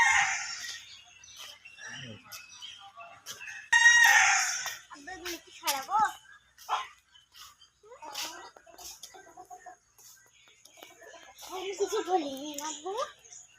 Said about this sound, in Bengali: এর ভিতরে কিন্তু মুরগি, অনেক বড় বড় মুরগি রাখা আছে